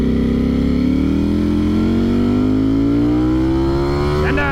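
A Ducati Streetfighter V4S motorcycle accelerates hard, its loud, close engine note climbing steadily in pitch through a gear with a rich, buzzing tone.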